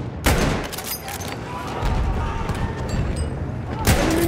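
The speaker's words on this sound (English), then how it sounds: "Machine gun!" Machine gun and rifle fire in a Battlefield 1 conquest match, a dense, loud fusillade of overlapping shots with sharp booms at the start and end.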